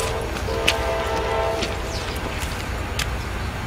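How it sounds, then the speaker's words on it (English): CSX freight train, the orange juice train, rolling past on the Trenton Line Bethlehem Branch, a steady rumble of wheels with a few sharp clanks, heard close by without talking. "Orange juice train."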